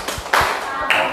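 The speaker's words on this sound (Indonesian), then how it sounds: "Kita beri tepuk apresiasi." Schoolchildren in an Indonesian classroom giving a patterned appreciation clap, a few loud, sharp, rhythmic claps in unison close by.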